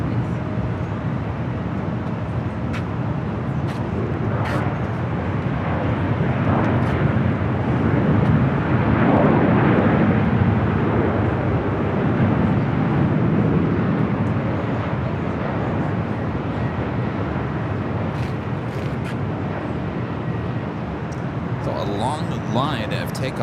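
Airliner taking off from LAX's north side, a loud broad jet roar swelling and fading over many seconds, heard from a spotting position with people talking throughout.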